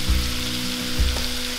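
Sausage, bell pepper, garlic and paprika sauté in a pan with a close, steady crackling sizzle and a couple of low thumps as the pan or spoon moves.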